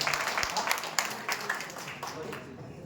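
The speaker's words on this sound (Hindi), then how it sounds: "जोरदार ताली रिजवान सर के लिए" Scattered clapping from a seated audience at a talk, a few hands at close range with talk nearby, fairly faint and thinning out within a few seconds.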